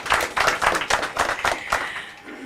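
A few people clap at a press conference, the claps landing in loose, distinct bursts roughly a third of a second apart, fairly close and dry, fading out near the end.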